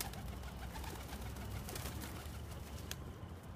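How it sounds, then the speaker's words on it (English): Young racing pigeons in a loft, with soft cooing spread across a steady, busy background of rustling and murmuring birds at moderate level throughout. "This is what you call nice pigeon loft and nice pigeons"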